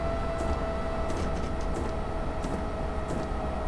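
Electric-style motor sounds play on a diesel-mode train in Train Simulator 2017: a continuous humming whine with a few faint intermittent clicks, with no voices.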